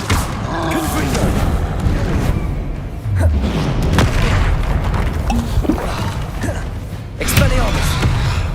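Confringo spell blasts in the video game Hogwarts Legacy, several booming impacts with creaking and thudding debris amid a busy combat soundscape, with shouted game voices mixed in.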